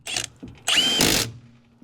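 A Milwaukee impact wrench with a 3/8 inch impact socket fires two short bursts close up, tightening lug nuts on a boat trailer wheel.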